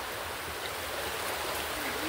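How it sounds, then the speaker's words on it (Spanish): The flooded Cravo Sur river rushes past behind a house, a steady, moderately loud broadband roar of fast-flowing water with no pauses. "esto es por la parte de atrás, donde va la creciente del río Cravo Sur."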